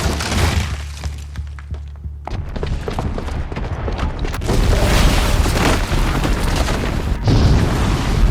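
A booby-trapped bomb goes off in Horizon Zero Dawn with a heavy boom and a crash of shattering debris. A loud, dense roar follows and builds, then lingers for several seconds.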